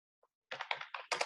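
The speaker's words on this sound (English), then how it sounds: "I mean, I am typing." Computer keyboard typing: a faint tap, then a quick burst of four loud, close clattering keystroke clusters in uneven rhythm.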